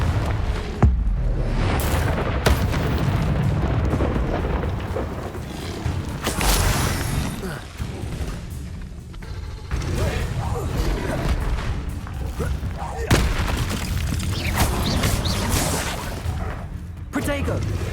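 Repeated Confringo fire-spell blasts from Hogwarts Legacy, a run of booming explosions and crashes under ongoing spell-casting voices, loud and close throughout.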